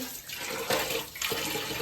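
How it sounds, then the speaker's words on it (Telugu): Hot water pouring steadily into a bowl, a continuous splashing rush with a couple of stronger surges, close by and without talk. "ఇట్లా గిన్నెలో వాటర్ పోసి ఇప్పుడు వేడి నీళ్ళు పోస్తా"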